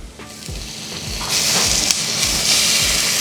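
Kudampuli tamarind soaked in warm water is poured into frying fish curry masala, bringing a sudden swell of hissing sizzle over rhythmic stirring thumps from the pan, close and steady.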